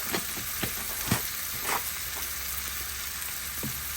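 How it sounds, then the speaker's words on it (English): Thyme leaves and salmon frying in a pan give a steady close sizzle and hiss, with a few brief crackles and stirring sounds over it. "I'm gonna have some thyme leaves and let it cook."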